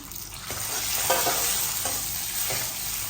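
Dried red chillies, fenugreek and cumin sizzling steadily in hot oil in a pan, a close, constant frying hiss with a few soft scraping stirs.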